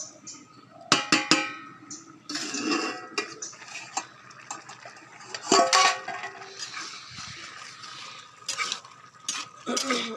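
A metal pot of vegetable curry clanks as a lid is set on it, with sharp metallic knocks and rattles scattered through, close up, amid faint sizzling and kitchen handling noise.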